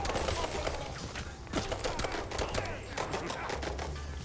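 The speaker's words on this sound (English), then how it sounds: "Tommy gun!" Rapid bursts of Tommy gun fire from a video game, many sharp shots in quick succession over a dense, busy background of in-game effects.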